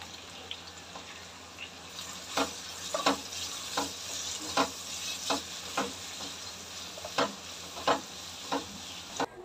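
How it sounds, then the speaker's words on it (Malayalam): Long capsicum strips sautéed with salt over high flame, a steady sizzle broken by regular sharp scrapes and taps of a stirring spoon against the pan, close and without voices. "ഇതൊക്കെ ഇച്ചിരി ഉപ്പിട്ടിട്ട് ഹൈ ഫ്ലെയിമിലൊന്ന് വഴറ്റിയെടുക്കാം"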